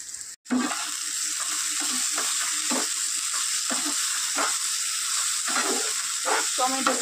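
Chopped green chilies and tomatoes sizzle and fry steadily in a hot pan for mushroom butter masala, with a brief sharp clatter at the start as they drop in, then continuous close crackling with intermittent stirring scrapes.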